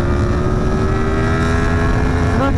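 A Yamaha MT-10 motorcycle with a full aftermarket exhaust drones loud and steady at speed, its engine tone climbing slightly near the end over wind noise.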